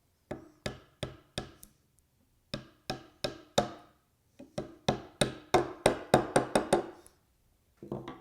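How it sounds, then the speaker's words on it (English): A mallet taps a wooden dowel plug into a pocket hole in a series of sharp, close knocks, first in small spaced groups, then a quicker run of harder blows, and a final pair after a pause. "And then tap it the rest of the way using a mallet."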